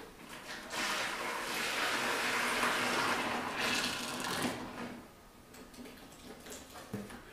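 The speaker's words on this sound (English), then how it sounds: "we're going to want to take and pour it into a 5-gallon bucket" Dissolved soap concentrate pours in a steady, splashing rush into a 5-gallon bucket for about four seconds before tapering to quieter trickles.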